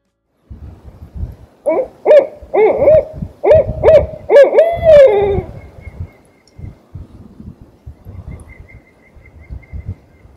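A barred owl hoots in a rhythmic series of about seven close, loud calls, ending in a rising cackling note, followed by quiet outdoor rustling.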